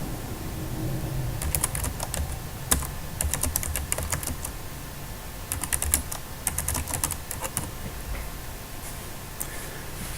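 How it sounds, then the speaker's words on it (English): Text being typed on a computer keyboard for a basic HTML web page, irregular bursts of close, crisp key clicks with short pauses between runs, no voices. "I'm just going to type some more text."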